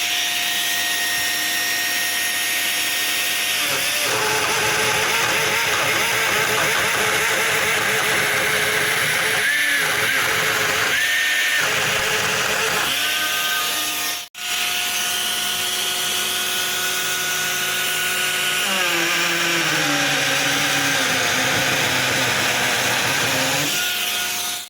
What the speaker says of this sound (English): I'm doing the cuts only with the performance router bits.